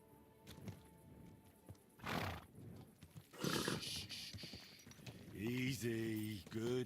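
Horse in Kingdom Come Deliverance 2 gives a loud whinny with a stepped, wavering pitch near the end, after scattered hoof clops and rustling, with someone speaking softly over the scene.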